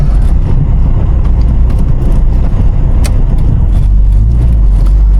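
A car on a road in the morning, heard from inside as a steady, loud low rumble of engine and tyre noise that holds constant throughout, with no talking.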